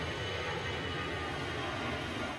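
F-16 military jets passing over a quiet residential neighborhood, heard as a loud, continuous broadband roar that stays steady and unbroken from start to finish, with no voices.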